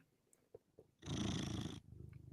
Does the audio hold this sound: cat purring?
yes